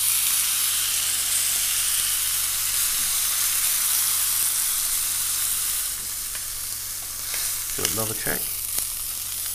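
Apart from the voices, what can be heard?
steak searing and sizzling in pan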